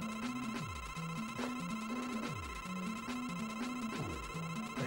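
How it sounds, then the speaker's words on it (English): A grating, repetitive chiptune pause-menu jingle from the video game Mega Man 9, looping beeping tones with sliding drops that repeat in a steady cycle, loud and alone without talking. "Now this is the stage with the really grating noise in the pause menu."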